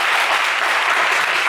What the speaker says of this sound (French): Applaudissements pour Henri